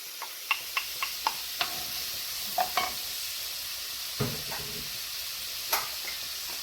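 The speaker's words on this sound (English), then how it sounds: "I'm going to add my carrots back." Carrots are stirred back into a beef stew marinated in red wine, with a low steady sizzle under scattered sharp utensil clinks and scrapes against the pot. No one speaks.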